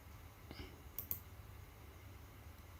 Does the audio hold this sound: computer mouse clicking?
yes